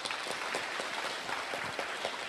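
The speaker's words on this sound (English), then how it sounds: "let us also give them a big round of applause" A congregation claps at an Easter Vigil Mass in church, a brief, fairly quiet burst of scattered applause with individual claps standing out.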